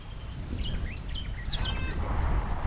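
Birds chirp and call beside a shallow, low Australian river, with short whistled notes and warbles over a steady background rumble of outdoor ambience.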